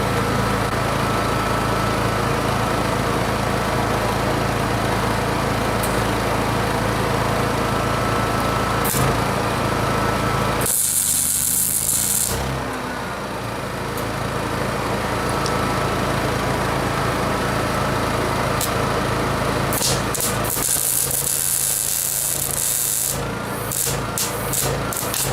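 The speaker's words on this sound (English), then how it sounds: "we'll try welding this whole side on number 8 and see if it keeps going." A Honda 7k generator drones steadily nearby while a Miller 212 MIG welder is used, a constant engine hum with intermittent crackling and hissing bursts layered on top.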